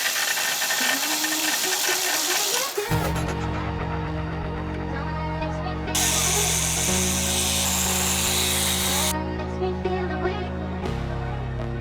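A power tool whirs while parts come off a wrecked Audi RS 3, a loud, sustained mechanical whine that shifts pitch in steps as the tool speeds up and slows, with no talking.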